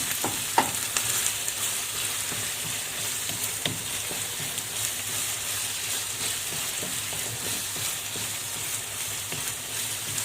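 Minced meat frying in a pan, a constant crackling sizzle with scattered scraping and clicking from stirring.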